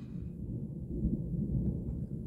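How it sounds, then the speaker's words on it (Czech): Low, continuous rolling thunder from a strong May thunderstorm just behind a nearby hill, a deep rumble lasting throughout with no voices. "ta bouřka je přímo za tím kopcem, si myslím"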